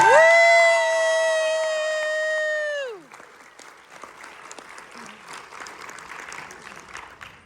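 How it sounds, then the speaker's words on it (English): A school jazz ensemble receives a round of applause at an end-of-year banquet; a loud sustained tone fades out first, then moderate clapping from a crowd carries on to the end. "Let's give one more round of applause to the entire jazz ensemble."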